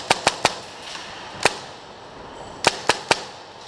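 Airsoft guns laying down suppressing fire in an arena game: sharp, loud cracks in quick groups of three, a lone shot, then another rapid volley, with no talk.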